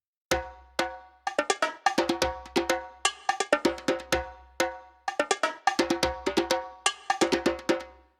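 Soloed drum group in Ableton Live for bass music, sharp metallic cowbell-like hits and tight percussion in call-and-response phrases, clipped bursts separated by short silences over a low thump.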